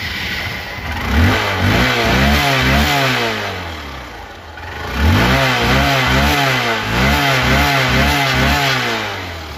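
A Hero Hank 150cc single-disc motorcycle engine revs up in repeated bursts, climbing and falling in pitch twice over a steady idle, loud and close with no talking.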